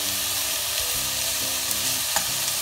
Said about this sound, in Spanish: Vamos a sellar.